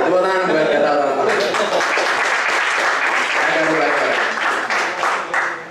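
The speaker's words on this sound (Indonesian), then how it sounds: "Tepuk tangan buat kata orang-orang" A crowd's clapping and applause swell up after a short pause and carry on as a dense, close wash of noise, with voices talking and laughing over it the whole time.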